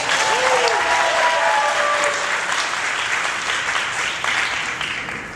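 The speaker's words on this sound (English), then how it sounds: "everyone, let's give them a big round of applause" Guests at a wedding reception applaud the newlywed couple, a dense, loud wave of clapping and crowd noise that holds steady and then slowly tapers off.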